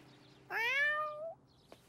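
A cat in an animated series gives a single clear, rising meow lasting under a second, close and distinct against near silence.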